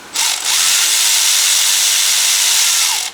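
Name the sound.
Milwaukee power tool removing exhaust manifold bolts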